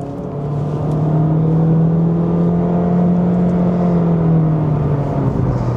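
A 2025 Honda HR-V Sport accelerates onto a highway, heard from inside as a steady loud engine drone with rising whir and road noise, holding a constant pitch for several seconds.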